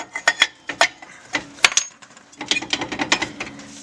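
Metal clanks and taps from a hammer being worked against the rear brake assembly of a 2005-2010 Chevrolet Cobalt to spread the parts and free the old drum, a series of sharp, close knocks with short pauses between them.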